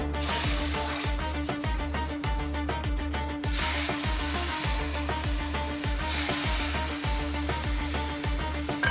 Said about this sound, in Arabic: وما نسينا تقلية شوربة سبانخ، معلقة زبدة ومعلقة بابريكا ومعلقة كركم وبس